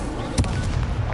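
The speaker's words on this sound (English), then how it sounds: "Break through red shields with damage spells, like the fire-making spell Incendio." In Hogwarts Legacy, the Incendio fire spell goes off as one short, sharp burst over a steady rumble of game audio.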